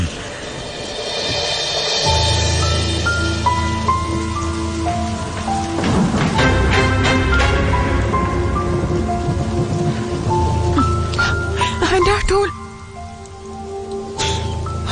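Heavy rain pours in a dense, loud wash while thunder rolls and cracks through it, with a sharp clap near the end before the downpour resumes.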